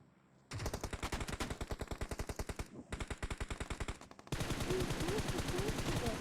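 Rapid automatic gunfire from the battle-royale video game PUBG, sustained bursts of evenly spaced shots with a brief pause, then a denser, louder volley toward the end.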